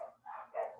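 A dog barks twice in quick succession, close by and moderately loud, with no talking over it.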